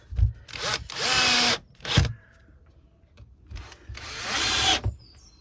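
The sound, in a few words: power drill driving small screws into wood stand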